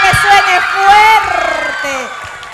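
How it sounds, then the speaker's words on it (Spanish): A studio audience at an acoustic performance on a TV show cheers and whoops, with several loud voices shouting over crowd noise and little distinct clapping. "El aplauso, por favor, el aplauso"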